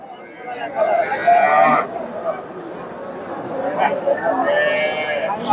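Two drawn-out cow moos, one early and one near the end, over a steady background of people talking at the busy outdoor Dakumara cattle market.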